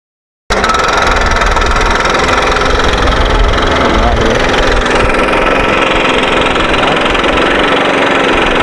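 A gas backpack leaf blower, one of several ECHO and Stihl models including the ECHO PB-8010, runs steadily at high throttle, a loud continuous engine roar with airflow rush that holds nearly unchanged throughout.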